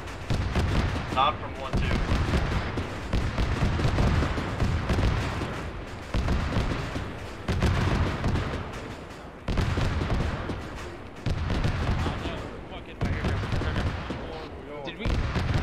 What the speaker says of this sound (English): There's an autocannon shooting at us